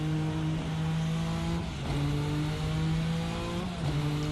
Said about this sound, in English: as your first taste of the engine actually running under load